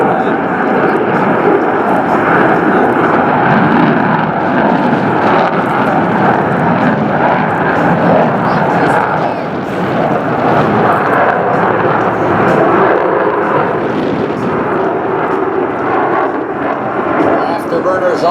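A USAF B-1 bomber makes a combat takeoff at an airshow with afterburners lit, a loud, sustained rumbling roar that fills the air throughout, with a voice faintly audible beneath the noise.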